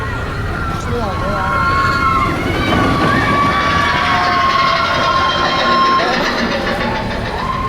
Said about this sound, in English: it's just a lot of runaway mine trains loaded up with hooping and hollering folks